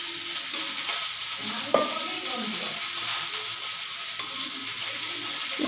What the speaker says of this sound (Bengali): মাঝখানে তেলের মধ্যে একটু সর্ষে দিয়ে দিলাম আর একটা কাঁচা লঙ্কা, সর্ষে ফোড়ন এরই মধ্যে দিয়ে দিলাম